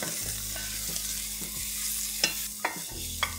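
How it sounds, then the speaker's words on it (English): Stirring and scraping browned bits in a pan for chicken fricassee: a steady low sizzle with a few sharp scrapes of a utensil against the pan near the end, close and fairly quiet, with no talk. "it's also important to start scraping all the brown bits"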